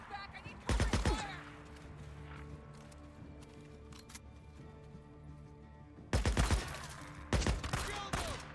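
Bursts of rapid gunfire from the zombie-survival game Days Gone crack out loudly near the start and again in the last few seconds, with quieter ambient game noise and faint scattered sounds between the volleys.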